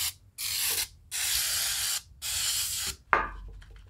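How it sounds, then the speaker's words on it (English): An aerosol can of oven cleaner sprays into a Jeep 2.5L four-cylinder valve cover in three long hissing bursts separated by short pauses, followed by a brief rattling, clattering sound. "I'm just gonna spray it in here."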